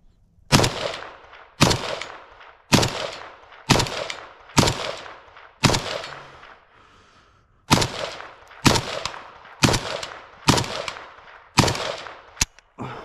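Sharp rifle shots from a ZPAP underfolder ring out one at a time, about a dozen loud cracks spaced roughly a second apart with a short pause midway, each trailing off in echo.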